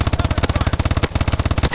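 Rapid automatic gunfire from the video game Advanced Warfare, a fast, even stream of close, loud shots with a brief break near the middle.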